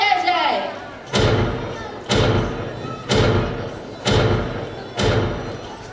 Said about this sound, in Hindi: हमारे इस सूरमा मंत्री को 5 तोपों की सलामी दी जाए